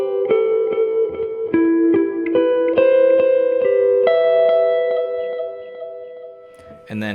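A clean electric guitar runs through reverb, delay and compressor pedals, playing sustained ringing notes and chords that overlap and trail off in long echoing tails.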